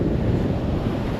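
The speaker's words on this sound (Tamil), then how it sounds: "கடல் நல்லா அடி அடிக்குது." Sea waves crash on the shore while strong wind buffets the microphone, a steady, dense roar with no break.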